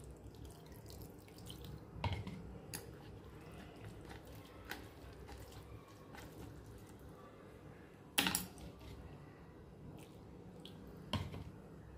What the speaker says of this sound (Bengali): একটু 3-4 বার করে জল দিয়ে এটাকে ধুয়ে নেব।